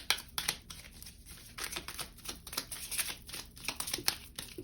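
Tarot cards shuffled by hand in quick, irregular bursts of crisp riffling and slapping, close and moderately loud, with no voice over it.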